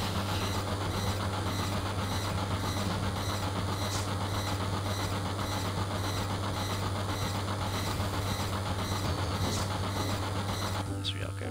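A train rumbles steadily in Final Fantasy VII, a dense continuous mechanical roar with a constant low hum and faint rattling, loud and unbroken throughout.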